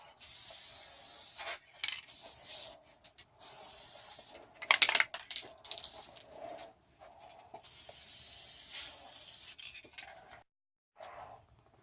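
A spray can lays a coat of paint onto wooden companionway hatch slides for a Siren 17 sailboat, with a series of close, loud hissing bursts of a second or two each, separated by short pauses and no talk.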